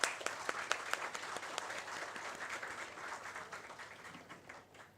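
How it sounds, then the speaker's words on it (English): An audience at a degree distribution ceremony gives parents a round of applause, the clapping loud at first, then settling into a steady patter that fades toward the end. "So the clap should go for parents first."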